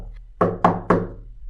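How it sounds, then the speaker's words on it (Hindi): Three firm knocks land on a house door, spaced about a quarter second apart, each a solid thud with a short fading ring, close and clear over a low background hum. "तभी घर के दरवाजे पर दस्तक होती है।"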